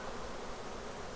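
A dense swarm of roughly ten thousand bees drones in a steady, continuous buzz close by, with no talking over it.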